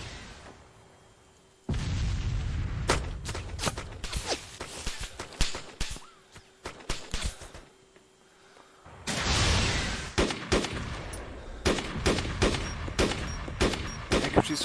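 Airsoft gunfire trading back and forth between players during a match, sharp rapid cracks and bursts repeating through the whole stretch, with louder volleys clustered near the start and the end.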